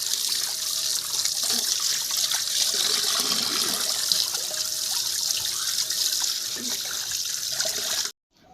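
Water trickling steadily while whole fish soak on a rooftop, a continuous close splashing flow that stops abruptly at the end.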